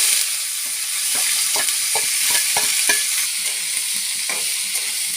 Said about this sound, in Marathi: लसूण आपण थोडंसं परतून घ्यायचं गवार घालून घेणार आहोत